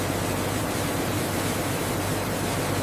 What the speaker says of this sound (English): As the seeds are released, they fall into stainless steel channels below, creating a soft cascading sound.